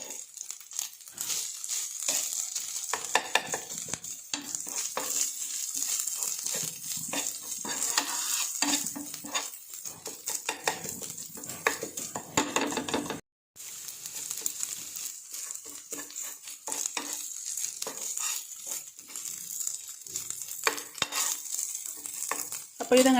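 Sardines sizzle steadily as they fry in a pan for a fish curry, a continuous close crackling hiss broken by brief stirring and scraping, with one short dropout midway.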